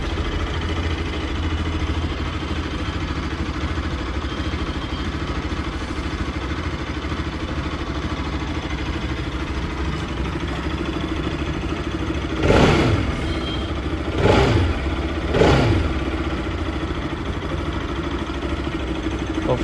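Bajaj Pulsar RS 200 motorcycle with a newly replaced battery idling steadily nearby, a constant engine drone broken by three short throttle blips near the end.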